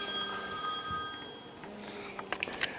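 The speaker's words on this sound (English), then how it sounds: "my phone's ringing just as I'm doing this now" A phone rings indoors with bright, repeating electronic tones, fairly faint against a quiet room, while someone records a maths quiz review lesson.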